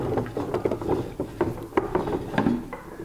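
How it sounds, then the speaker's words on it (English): Plastic whole house sediment water filter housing being unscrewed by hand, giving a run of close, irregular ratcheting clicks and creaks that repeat steadily for a few seconds with no talk. "but you unscrew it like this"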